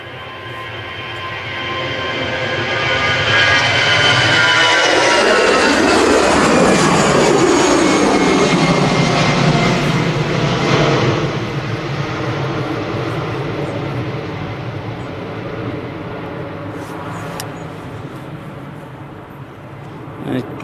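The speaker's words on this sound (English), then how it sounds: "Easyjet A320 going to Geneva." An easyJet Airbus A320 bound for Geneva takes off from runway 23L at Manchester Airport, its jet engines building to a loud roar with a sweeping pitch shift as it passes close by, then fading steadily into the distance.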